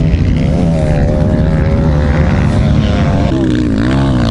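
A Yamaha 250 motorcycle engine revving hard on a hill-climb run, loud and close throughout with a constant buzzing drone whose pitch wavers up and down as the throttle changes.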